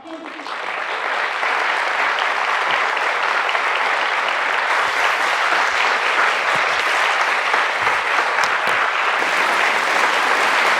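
A college audience at Hansraj College bursts into sustained, dense applause that swells within the first second and holds loud and steady throughout, with a faint voice or two underneath.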